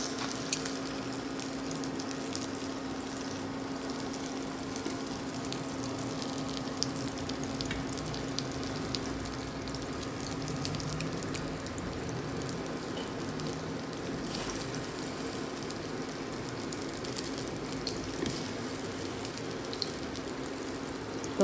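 Tofu fries gently in a small amount of oil, a soft, even, continuous crackle and sputter with faint occasional taps, fairly quiet and with no talk.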